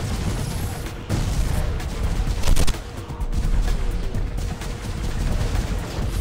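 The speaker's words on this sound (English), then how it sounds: "Frickin' rockets." Rockets and weapons fire hit a car in the PS2 game SpyHunter 2, a loud, dense barrage of blasts and explosions with sharp bursts throughout, no talk over it.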